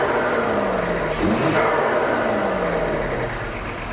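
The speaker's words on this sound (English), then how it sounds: "I'm going to start up the engine and see how the vibration is." A 2022 Lincoln Aviator's 3.0-liter twin-turbo V6 idling under an open hood, a steady smooth hum with a brief rise in the middle before settling back to an even, refined drone.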